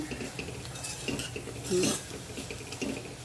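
Fenugreek greens being mixed with onion and coconut in a pan, a spoon clinking and scraping against the metal in short irregular strokes, fairly soft and close.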